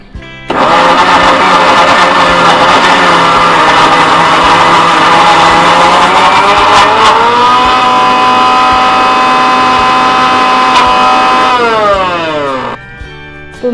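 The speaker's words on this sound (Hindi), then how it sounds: "तो मैं इसको अब मिक्सी में मिक्स करूंगी।" A mixer grinder whirs loudly and continuously close by, blending butter and sugar, its motor pitch dipping briefly mid-run before winding down and stopping.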